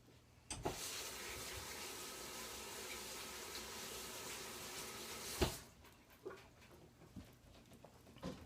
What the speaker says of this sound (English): Alright, so it's starting to sizzle.